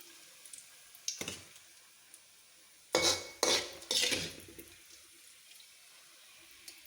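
A metal ladle scrapes and clinks in a pan while fried green chillies and curry leaves are lifted out for a Kerala ginger curry, with a few quiet taps, then three louder clattering scoops close by.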